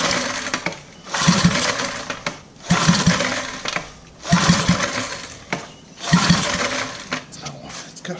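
A 5HP Briggs and Stratton small engine is pull-started with the choke on, heavy compression making each of four rough recoil pulls chug and rasp up close without firing, with brief pauses between pulls.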